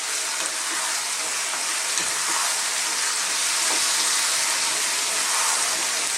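Softened tomatoes sizzling and being tossed in a pan for a chicken and chickpea curry, a loud, steady hiss of frying with faint stirring knocks, no voices.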